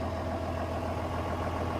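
A John Deere tractor idles with a plough raised on its hydraulics, a steady low diesel rumble held at an even level with no voices throughout.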